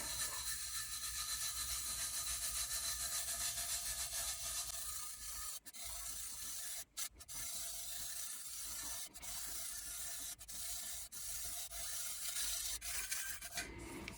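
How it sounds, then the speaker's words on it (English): Fingers rub holographic dust into a coated tumbler by hand, making a continuous soft close-up rasping and rubbing with brief gaps where the hand lifts. "we're going to burnish it down so it lays flat and gives us that gorgeous holographic"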